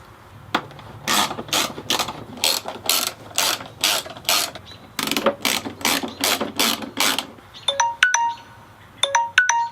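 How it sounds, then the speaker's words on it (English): A hand ratchet tightens windshield trim bolts on a Harley Road Glide, giving close, loud bursts of rapid clicking in repeated strokes with short pauses, then a few sparse single clicks at the end. "I'm going to start tightening down the windshield trim bolts"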